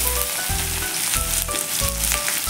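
Onion with cumin, curry leaves and asafoetida sautés in a pan for a traditional Bhogi vegetable dish, a loud, bright, continuous sizzle with a low rhythmic thumping of stirring underneath, close up with no voices.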